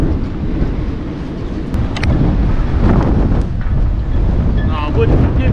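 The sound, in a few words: gust of wind while pulling a boat line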